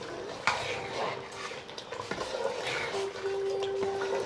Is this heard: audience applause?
no